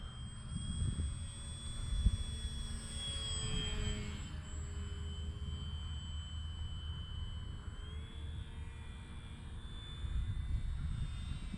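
XFly Glastar V2 RC airplane on 3S power flying over a club field, its electric motor whining steadily at a moderate distance with slight pitch shifts as it passes, alone without talk.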